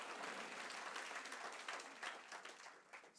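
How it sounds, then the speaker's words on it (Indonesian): Congregation applauding in a church service, a steady wash of many hands clapping at moderate distance, sustained throughout and fading slightly toward the end. "Tepuk tangan yang paling meriah buat Tuhan."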